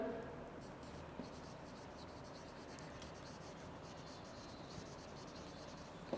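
Chalk or marker writing on a board during an English literature lecture, a steady faint scratching that runs throughout against a noisy room background.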